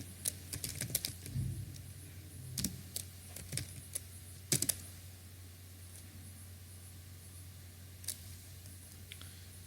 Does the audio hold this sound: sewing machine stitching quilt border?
no